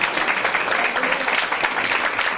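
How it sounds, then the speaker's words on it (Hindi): Church congregation clapping together to give thanks to God during worship, a steady, dense wash of many hands close and loud, continuing without pause throughout. "तालियां बजाकर प्रभु को धन्यवाद।"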